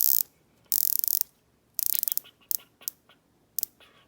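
Rotating bezel on a Rolex Sea-Dweller Deepsea "James Cameron" ref. 126660 dive watch, turned in short bursts of crisp, rapid ratcheting clicks with brief pauses between runs, close and clear with no talk.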